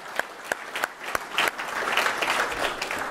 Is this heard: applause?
yes